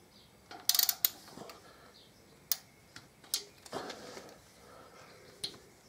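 Torque wrench on air filter bolts of a 2014 Harley-Davidson Electra Glide fitted with an S&S kit, giving a few sharp, sparse clicks and ratchet ticks, quiet and close, with pauses between.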